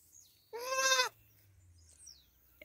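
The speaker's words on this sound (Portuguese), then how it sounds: "Você quer ver o berradinho dela?" A newborn Dorper ewe lamb gives a single clear, wavering bleat of about half a second, close and fairly loud, followed by quiet farm background.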